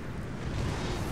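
Howitzer artillery fire in a Napoleon Total War battle of Britain and Prussia against France and Spain, a heavy continuous rumbling boom holding steady at moderate loudness.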